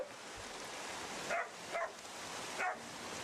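Pig hunting dogs bark outdoors, three short barks spaced about a second apart, moderately distant over a steady wash of background noise.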